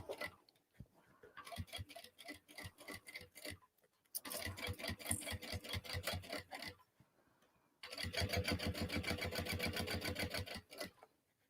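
A sewing machine stitches fabric for a crossbody bag in three quiet bursts of rapid, even clatter, separated by short pauses, with faint handling noise between runs.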